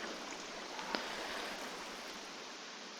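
Faint, even rushing of water pouring out of dispensers in Minecraft, a soft continuous wash of noise with no voices.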